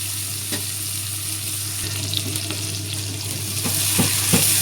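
Onions hit hot oil in a wok after fish has been fried, giving a steady sizzling hiss with a few scraping stirs and clinks, close and continuous without any talk.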